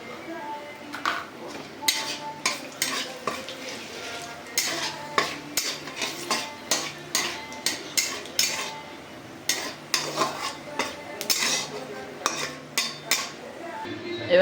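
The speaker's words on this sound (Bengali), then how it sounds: "আর দুটো তেজপাতা দিয়ে দিলাম, ভালো করে ভেজে নেব।" Bay leaves and panch phoron frying in hot oil in a home kitchen while cooking Bengali shukto, with a steady sizzle under repeated clinks and scrapes of a spoon stirring in the pan.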